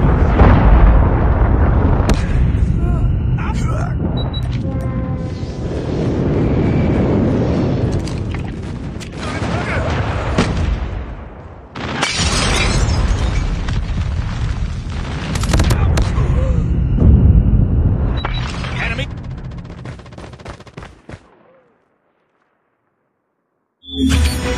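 Loud, near booms and blasts from a Predator missile strike in the Call of Duty video game, with explosions and gunfire bursting over a dense battlefield din for about twenty seconds before falling silent.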